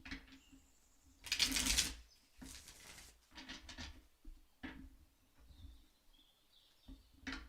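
Tarot cards shuffled by hand in three quick bursts, crisp riffling and scraping close up, separated by short pauses of quiet room tone.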